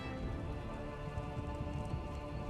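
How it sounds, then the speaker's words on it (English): Steady rain falls in The Elder Scrolls Online during a storm at South Point, a dense, even hiss of drops close around with no talk over it. "I could do without this damnable rain. It's been storming since we arrived, and it shows no sign of letting up."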